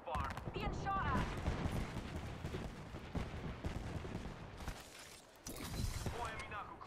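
Gunfire in the video game Apex Legends during a ranked match crackles in rapid, dense bursts, loud and close, nearly continuous with a brief lull, while a player talks over it.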